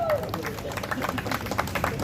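A crowd at the Bridgestone Dueler All-Terrain 002 tire unveiling and flag-off claps in a steady patter of many hands, with background chatter and a voice running over it.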